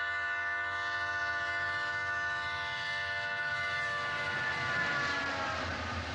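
A train bears down in a Halloween (1978) film scene, its horn or siren-like tone held as a sustained layered chord over a low rumble, loud and continuous throughout.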